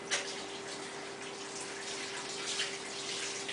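Hot tap water runs into a basin as a steady, fairly quiet hiss and splash, with a faint constant hum underneath.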